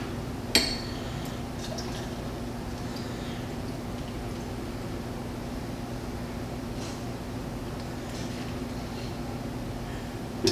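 Beer pours steadily into a cup for several seconds, a soft continuous trickle with a faint clink of glass near the start and end.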